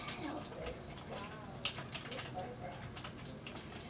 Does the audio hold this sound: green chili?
no